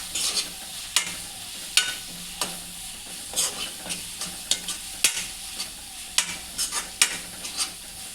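Mutton with a pinch of turmeric stirred in a pan for gongura mutton: a busy run of close, repeated scrapes and clacks from the spoon over a steady frying sizzle, with no talking.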